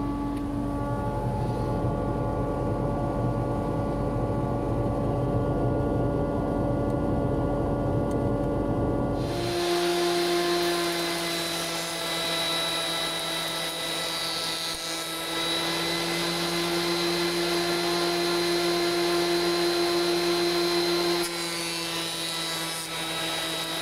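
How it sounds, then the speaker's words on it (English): A thickness planer feeds glued wooden bed rails through its blades. It gives a loud, steady motorised roar that changes pitch partway through as the cut begins and then stays heavy and continuous. "I'm gonna risk trying them through the planer."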